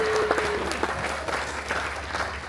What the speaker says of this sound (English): Shall we give the captain, the real captain, a round of applause?